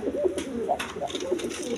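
High-flying pigeons kept for sale coo in a short burst of soft, repeated throaty calls, several overlapping coos close by over a faint background hum.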